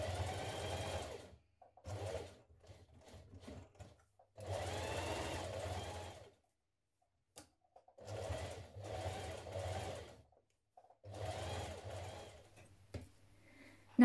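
A sewing machine top stitches denim jeans in four or five separate bursts of rapid mechanical whirring, with short quiet pauses between runs.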